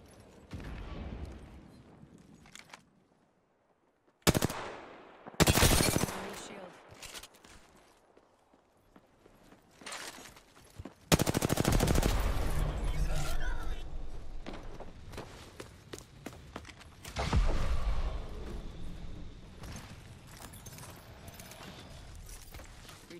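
Gunfire and explosive bursts in the Apex Legends video game, loud clustered volleys separated by quieter stretches of movement and footsteps, with heavy sustained firing in the second half.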